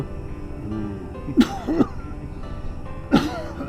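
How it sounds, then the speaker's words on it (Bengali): A person coughs and clears their throat in a drama scene, a few harsh close bursts spaced over the moment with a low background murmur between them. "এটা অরিজিনাল কাশি ছিল"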